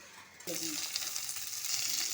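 Ivy gourd, dondakaya, cooks in a pan after a sudden start, then sizzles and hisses steadily at a soft, close level, with a few faint clinks early on.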